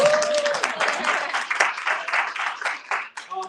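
An audience at a family business retreat claps in a steady, close burst of mixed hand claps, with voices and cheering mixed in.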